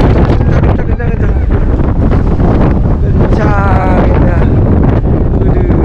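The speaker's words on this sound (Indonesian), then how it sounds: "Anginnya kenceng banget di Pantai Pasifik." Strong wind at a Pacific Ocean beach, loud constant buffeting gusts roaring across the microphone, with people talking under the wind noise.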